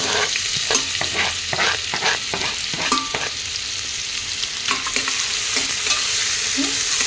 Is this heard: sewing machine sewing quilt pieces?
no